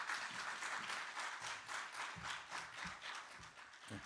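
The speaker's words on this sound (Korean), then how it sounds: "목사님 나오실 때 한 번 더 박수하겠습니다" Audience applause at a university seminary chapel service: dense, steady clapping from many hands that fills the whole stretch, with no talking.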